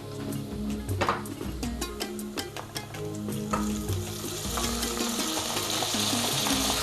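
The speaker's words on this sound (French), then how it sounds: "il faut remuer de temps en temps pour éviter que ça colle en dessous" Onions and mushrooms frying in a pot for Cameroonian egusi soup are stirred, giving a steady close sizzle broken by repeated scraping and tapping of the spoon against the pot.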